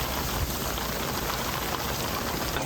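Rain falls steadily around a 32-foot sailboat on the Intracoastal Waterway in South Carolina, a dense, even hiss of drops pattering on surfaces, close and constant.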